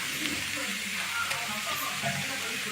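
A carrot dosa cooks on a hot pan with a steady, close hiss of sizzling oil that runs the whole time, with a faint voice now and then beneath it.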